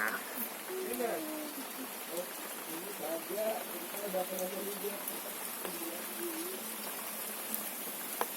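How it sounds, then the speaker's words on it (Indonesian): Steady rain falls at a roadside food stall during a mountain hike near Bogor, a dense continuous hiss with faint voices beneath it. "kita lihat ya hujannya"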